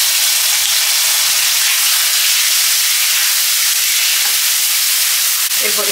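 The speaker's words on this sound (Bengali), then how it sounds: "আর কাঁচা লঙ্কা বাটা, সর্ষে বাটাটা দিয়ে দেবো।" Green chilli paste and mustard paste hitting hot oil with onions and turmeric for a mustard egg curry, a loud, dense, continuous hiss and sizzle close up with a brief stir near the end.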